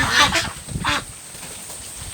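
Loud, harsh honking calls from ducks outdoors in light rain, a few bursts in quick succession, then quieter squawks fading under steady background noise.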